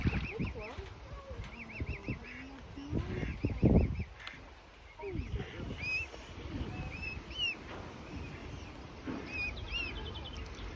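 Swans at a park let out several faint, scattered honks and calls against outdoor background noise, with a person talking nearby in between.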